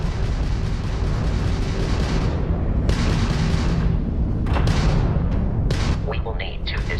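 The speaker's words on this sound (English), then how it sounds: "that's a Crimson Fleet ship bringing its weapons to bear" Crimson Fleet ship weapons firing in a space combat video game, heavy booming bursts and rumbling blasts repeating through a dense, loud mix, with a voice speaking over parts of it.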